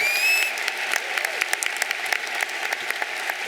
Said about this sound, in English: Please join me in another round of applause for these 2 wonderful students.